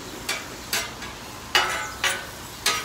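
Onions and peppers for a Philly cheesesteak cook on a griddle over medium heat, a low steady sizzle broken by six regular scraping strokes of a spatula, close and clear with no voices.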